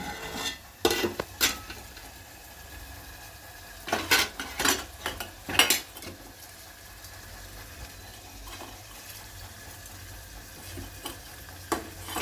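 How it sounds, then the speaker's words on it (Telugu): Egg curry being stirred in a pot, with scattered clinks and scrapes of a spoon against the metal at irregular intervals over a low background hum, close and moderately loud. "మనమైతే మళ్ళీ కలుపుకోవాలి."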